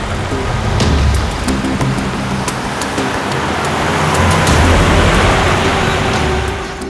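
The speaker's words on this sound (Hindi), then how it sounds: "सर गाड़ी की आवाज सुनी आपने?" A car approaches as a broad, hissing roar that swells louder toward the end, with a rain-like wash over the whole stretch and nobody speaking.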